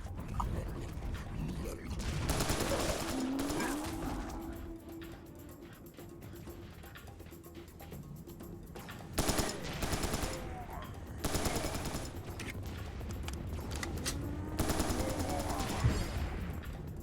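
Rifle fire in the first-person shooter Serious Sam 3, bursts of rapid shots breaking out in several separate volleys between quieter stretches, with a voice talking faintly in the background.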